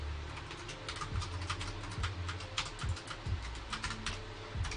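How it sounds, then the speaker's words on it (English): Fingers type an email address on a computer keyboard, with quiet, irregular clicky keystrokes in short bursts, close up, over a faint background hum and with no talk. "I'm going to type in my email address"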